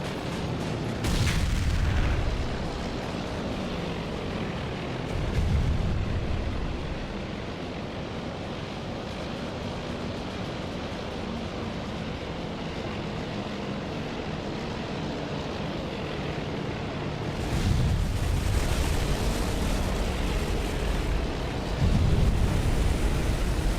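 Bombs strike an aircraft carrier during a naval battle in the video game Task Force Admiral, set aboard the ship: heavy booming impacts burst out several times over a continuous roaring, surf-like wash of wind and sea noise.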